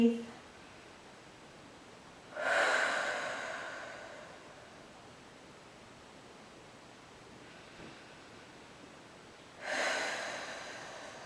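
Deep, slow breaths during a Pilates exercise: two long airy exhales about seven seconds apart, close and fairly soft over quiet background hiss.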